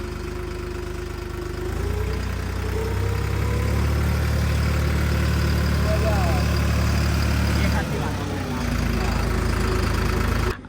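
Two tractors idle ahead of a friendly tochan tug-of-war event, their engines holding a steady, loud, low rumble that runs the whole time with a short dip near the end.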